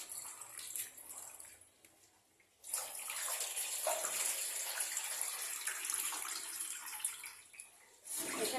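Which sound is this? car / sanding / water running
water running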